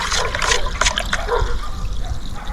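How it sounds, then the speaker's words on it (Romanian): A yeast fertilizer solution for strawberries stirred in a container outdoors, water sloshing and swirling in repeated close splashing strokes. "mai amestec încă o dată această soluție"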